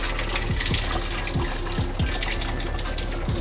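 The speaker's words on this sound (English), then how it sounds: "you're just gonna pour this hot water on the skin of the salmon" Hot water poured from a kettle onto raw salmon skin, a steady splashing, running-water wash with a few soft knocks, continuous and fairly loud throughout.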